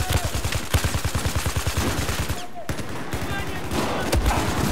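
Rapid automatic gunfire in a video game, a fast even string of sharp shots for a couple of seconds, a brief pause, then more scattered bursts with a voice talking underneath.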